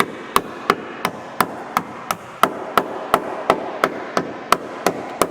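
Gentle hammer taps strike a car's body panel where it rubbed the tire, about fifteen evenly spaced sharp knocks in a steady rhythm, close and clear over a low background hum.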